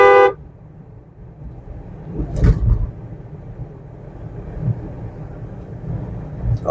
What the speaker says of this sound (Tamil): விட்டுட்டு ஹாரன்.